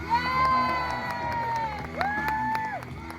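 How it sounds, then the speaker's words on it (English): A crowd at an extreme mountain bike show at Stanwick Lakes cheers and whoops loudly, with children's high shouts rising over the noisy mass of voices. "Did you see how loud they cheered for you?"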